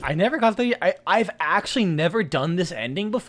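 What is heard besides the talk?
No distinct noise like a dog, phone or traffic.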